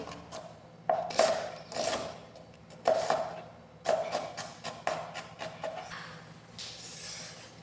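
A knife chops onion into thick pieces in a home kitchen, giving about a dozen crisp, irregularly spaced cuts against a board, fairly close and clear in a quiet room.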